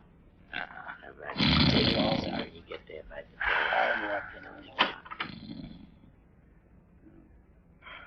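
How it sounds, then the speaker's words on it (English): Man snoring as a radio drama sound effect: a few long, rasping inhaled snores with snorts and breathy exhales between them, fairly close and moderately loud, with no speech over them. "I can hear him snoring."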